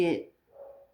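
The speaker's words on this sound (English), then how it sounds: "If you hear barking, that is my dog." One sharp dog bark close by, followed by a softer, drawn-out whining tail.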